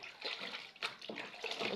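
Underwear being rinsed by hand in a basin of water, soft repeated splashes and sloshing in short bursts, close and fairly quiet.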